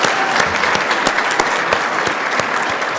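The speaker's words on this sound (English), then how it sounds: "Let's get them a round of applause." A round of applause for nursing graduates, the class of 2025, at a Missouri Western State University pinning ceremony; loud, dense clapping from a large audience, steady and unbroken from start to finish.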